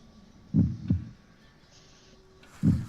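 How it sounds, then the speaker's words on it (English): Giant heartbeat sound effect during a Curse of Strahd tabletop role-playing session: deep, booming thumps, a quick double beat and then a single beat after a pause, over a faint hum. "Sounds like something giant's heartbeat."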